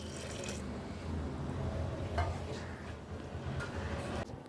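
Water runs into a pressure cooker holding banana flower, a steady splashing pour heard close and moderately loud, continuing for several seconds with a few faint clinks.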